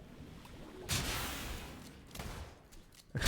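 Gunfire in the video game SULFUR, with bullets striking and ricocheting off mud: sharp bursts of shots crackle out in clusters over a low, quieter game background, loud and close with no talk.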